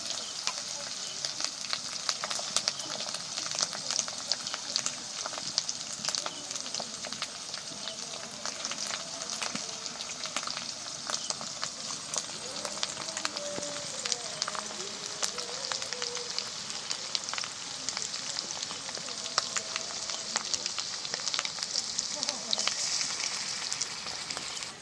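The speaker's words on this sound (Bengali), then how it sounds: "দেখো চিকেনগুলো সব কড়াইয়ের ওপর দিয়ে দিচ্ছি।" Chicken pieces hit hot oil with onions in a kadai for restaurant-style chicken chaap, giving a steady, close crackling sizzle that runs the whole way without speech.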